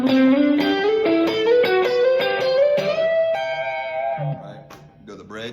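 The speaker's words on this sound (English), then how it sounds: "if I put on distortion," An electric guitar plays through a distortion pedal into a Quilter amp controlled by a six-position foot controller. Loud sustained notes step gradually upward in pitch, then fade into a few quieter plucked tones.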